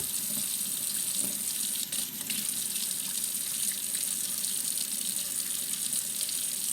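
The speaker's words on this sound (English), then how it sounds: "the other thing we want to do is wash our hands." Hands washed under a running kitchen tap after handling raw eggs: a steady, close hiss of flowing water splashing into a sink, with slight shifts as the hands move in the stream, no voices.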